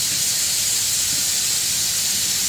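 A mixer grinder whirs with a loud, steady, hissing roar that continues unbroken from start to finish.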